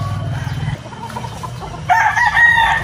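Gamecock roosters cluck and call while being fed, a nearby mix of low clucks followed by a louder, higher crowing-like cry toward the end, with no talk over it.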